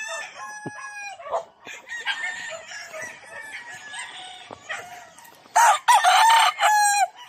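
Gamefowl roosters crow repeatedly, one loud and close near the end, amid clucking and other farmyard fowl calls, at a gamefarm in General Santos City.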